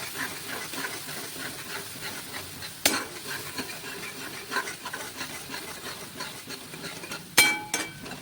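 Fried onions and yogurt stirred in a pan on the stove, a soft continuous sizzle with scraping strokes and a couple of sharper clinks of a utensil against the pan, close and fairly quiet.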